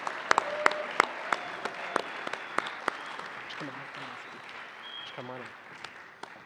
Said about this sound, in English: let's give them a round of applause as they come on out